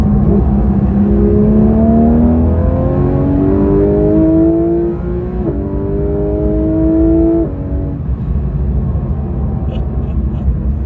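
A Porsche 911 GT3 RS engine pulling hard under acceleration from inside the car, a loud rising whine climbing through the revs, briefly dropping at a gear change, then climbing again before easing off into a steady road rumble.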